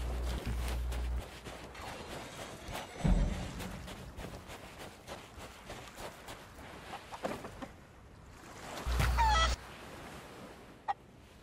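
Chickens in the Sea of Thieves video game, giving intermittent honking clucks and squawks over a low, busy game background, with a few louder bursts spread across the stretch and no speech.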